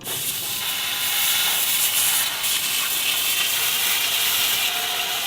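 A laser machine cuts through a metal plate with its cutting nozzle, giving a steady, close hiss with faint rubbing and scraping that carries unbroken through the whole stretch, with no talk.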